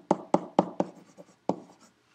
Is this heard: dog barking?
no